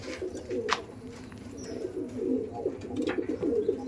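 Aggressive pigeons coo steadily in a low, continuous rumbling chorus at a loft housing Dom pigeons, with a brief sharper call cutting through near the start.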